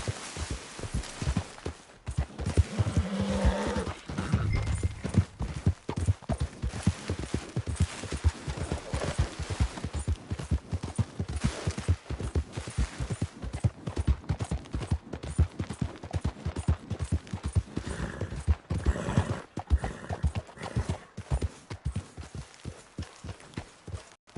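A horse in the Red Dead Redemption 2 video game trots steadily, its hooves clip-clopping in a continuous close rhythmic beat for the whole stretch, with no talking over it.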